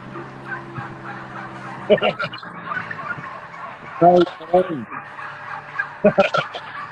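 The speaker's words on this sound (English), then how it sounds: "Look at those turkeys." Several bursts of turkey gobbling ring out over steady outdoor background noise, a couple of nearby calls and others trailing off, without anyone talking.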